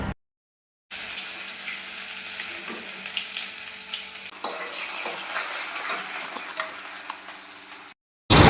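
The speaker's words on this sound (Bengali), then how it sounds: "আরও কয়েকটা ছিল, ওইগুলোও ভেজে নিচ্ছি।" Red spinach pakoda deep frying in hot oil, made with potato, onion and green chilli in the batter: a steady, fairly loud sizzle and hiss with faint stirring clinks, starting and stopping abruptly.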